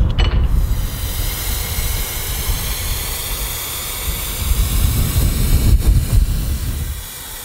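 Maston RUBBERcomp rust effect rubber coating sprayed onto a car from an aerosol can, a steady close hiss lasting several seconds with a brief pause near the start and a fade at the end.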